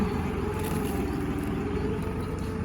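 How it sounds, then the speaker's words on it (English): A tractor labors under heavy load while pushing a large log, giving a steady, continuous low engine drone that stays loud and even throughout with no talking. "I can hear that tractor in a bind pushing that big ass log."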